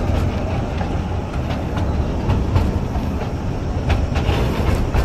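A small joy train at the National Rail Museum in Delhi rolls along with a steady rumble and light rhythmic clickety-clack of wheels over rail joints, heard from on board with no voices.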